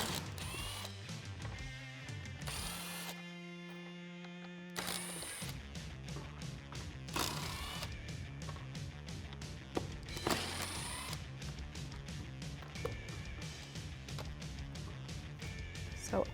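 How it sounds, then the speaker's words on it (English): Socket ratchet working Torx bolts loose from a Jeep Wrangler JL spare tire carrier: quick runs of clicking pawl strokes come in bursts, close and fairly quiet, broken by pauses and a short mechanical whir. "socket and removing the Torx bolts that are surrounding the carrier"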